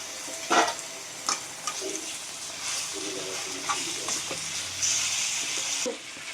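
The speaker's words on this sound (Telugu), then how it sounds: "ఇప్పుడు ఇందులో మనం ఇందులో ఫ్రెష్ చేసి పెట్టుకున్న చికెన్ని వేసి కలుపుకుందాం" Chicken being stirred into onions frying in oil, a continuous sizzle with intermittent scrapes and knocks of a spoon against the pan, close up and fairly steady.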